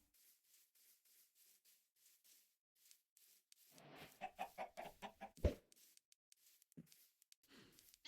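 Chickens cluck in the Minecraft video game, a short run of clipped, evenly spaced clucks rising out of near silence midway, with a louder burst near the end of the run.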